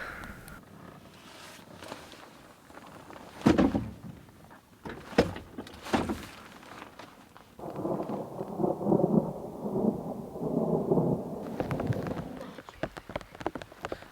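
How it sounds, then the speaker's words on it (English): Thunder from a storm in Australia's Victorian High Country rumbles in low, heavy rolls and a few sharper cracks, fairly close, with a voice or two briefly heard alongside. "That storm seems to have cleared over, had lots of thunder"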